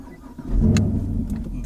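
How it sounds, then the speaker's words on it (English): A Chevrolet Camaro SS V8 cranks briefly and fires, swelling into a deep, loud close-up idle rumble that holds steady. "let's fire it up."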